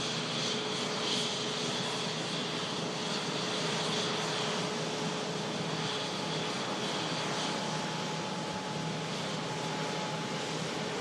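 An Airbus A350 airliner bound for Hong Kong departs from Manchester Airport, its jet engines a steady, distant, fairly quiet rushing hiss that stays even throughout.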